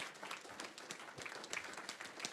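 An audience at a school district governing board meeting claps for a preschool academy, a dense patter of many hands heard faint and at a distance, steady throughout without speech.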